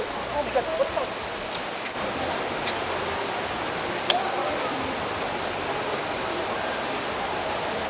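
The river below Taytay Falls in Laguna makes a steady broadband rush of flowing water, even and continuous, with a few faint knocks and a soft voice early on.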